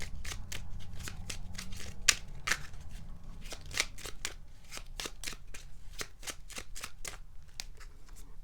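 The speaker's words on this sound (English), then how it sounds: "Let's also draw you an Angel Whispers card." A deck of Angel Whispers oracle cards is shuffled in a steady run of crisp, rapid riffling flicks, close and fairly quiet, with a couple of sharper snaps as cards are drawn and no talking.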